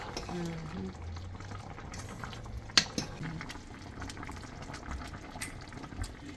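Cowfoot boils in a pressure pot with a steady, dense bubbling hiss and one sharp click near the middle, while low voices murmur faintly in the background.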